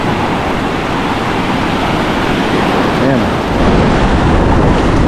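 Strong sea waves break and wash in a loud, continuous roar at a crowded beach, with wind buffeting the microphone; a voice briefly speaks over it.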